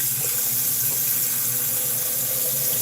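Water gushes from a tap into a blender holding chopped beetroot for a drink, a loud, steady rushing splash with no pauses throughout.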